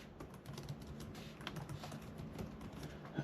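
Fingers tap rapidly on the keyboard of an Acer Nitro V 14 gaming laptop in its white edition, producing soft, quiet key clicks in a steady run with no talking.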